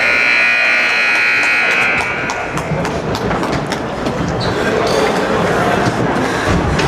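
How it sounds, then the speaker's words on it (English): A loud, steady end-of-period buzzer sounds over a noisy crowd at a pre-season ice hockey game for about two seconds, then cuts off as the crowd roar continues with scattered voices. "they'll let that buzzer sound"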